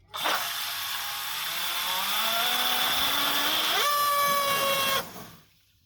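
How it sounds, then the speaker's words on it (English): A 3180 kV brushless RC motor on a thrust test stand spins up with a rising whine, climbs steadily, jumps to a higher pitch near the end, then cuts off abruptly and winds down. The sound is loud and close, with no talk over it. "3180 kV motor test."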